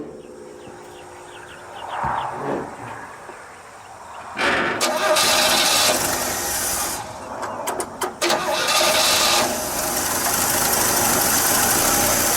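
A '67 Chevy C10 engine with a loose distributor cranks and catches, then runs at a rough idle with revving surges and brief dips, loud and close, after a quieter stretch of background noise.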